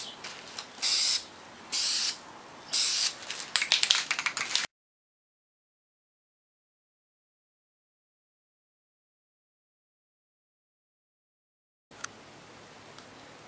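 Short bursts of spray paint hiss in a steady rhythm, close by, as a Dualshock 3 controller case is coated in thin layers. A long stretch of silence follows, then a quieter, faint hiss.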